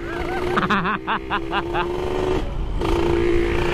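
A motorcycle fitted with a Killer Whale road-race exhaust idles with a steady, throaty drone while someone talks over it near the start.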